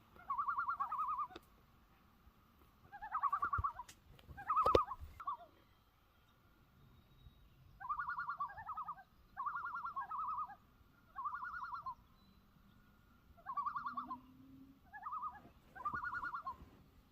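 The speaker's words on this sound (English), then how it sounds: "Get the loons calling to us this morning." Loons call across a northern lake in the morning, heard from a sailboat on the North Channel: a series of wavering, tremolo-like cries in repeated bursts, moderately distant and clear over quiet water, with no talking.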